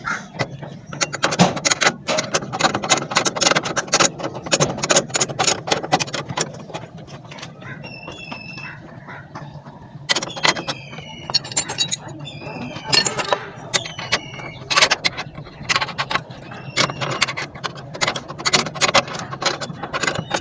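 A 14 mm wrench tightens bolts on the brake master cylinder of a Suzuki Bolan, with repeated metallic clicks and ratcheting clinks in bursts, close by, and someone speaking between them.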